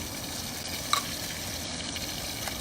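Dried oregano, Italian seasoning and bursting tomatoes sizzling in a pan over a camp stove, a soft steady crackle with a faint clink near the start.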